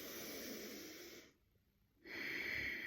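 A slow diaphragmatic breath, drawn deep into the belly rather than the upper chest: a long airy inhale, a short quiet pause, then a steady rushing exhale, close and alone.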